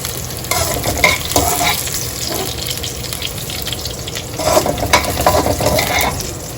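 Chicken pieces deep-frying in hot oil in a pan while cooking chicken biryani, a steady loud crackling sizzle with bursts of bubbling and occasional stirring scrapes, no talk.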